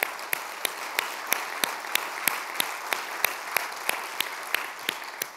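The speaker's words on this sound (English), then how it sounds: "I think we should give them a round of applause." The audience at the LEAD 2015 event applauds the organisers: crisp, evenly spaced claps that ring out over a quiet room and hold a steady rhythm throughout.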